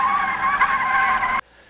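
A voice imitates a car's tire screech as it speeds away: one sustained, loud, strained squeal lasting over a second that cuts off abruptly into near silence.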